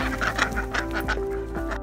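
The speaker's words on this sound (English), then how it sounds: "And these ducks come running out." Ducks running out of their pen, a rapid series of nasal quacks and honks from several birds close by, busy and overlapping with no speech.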